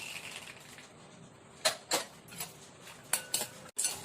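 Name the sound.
peanuts frying and stirred in oil in a kadhai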